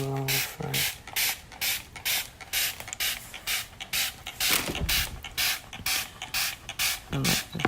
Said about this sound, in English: Here we go with the spray bottle.